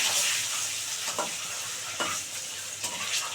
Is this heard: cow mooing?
no